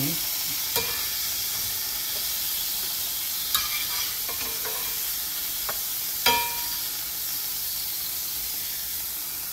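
Scallops sizzle in a hot frying pan with a steady bright hiss, broken by a few sharp crackles and pops as they cook, close and loud with no talk.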